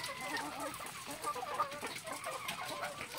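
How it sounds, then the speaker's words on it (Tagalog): Laying hens cluck and murmur steadily nearby, a busy flock chattering with occasional sharper squawks. "Ang ating mga alagang manok ay mga"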